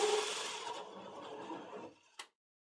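A hole saw drill bores through drywall for an in-wall cable installation, a steady whirring grind lasting about two seconds before it stops with a brief clunk, then silence.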